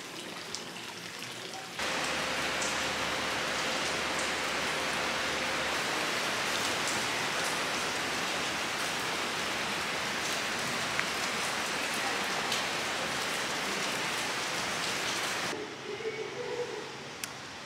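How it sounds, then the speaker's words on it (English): Steady afternoon rain in Guatemala City patters on a surface in a dense, even hiss that starts abruptly, holds constant, then drops off near the end. "Just prepare for a little afternoon rain,"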